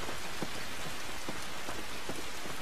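Rain falling in The Last of Us game, a steady close hiss of drops hitting the ground with scattered louder spatters, constant and loud across the whole stretch with no talk.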